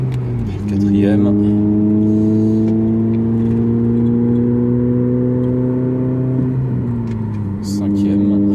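A red Honda Civic Type R FN2 engine pulls steadily through the upper gears, a sustained rising drone with a brief dip at each shift, close and loud throughout, with someone talking over it.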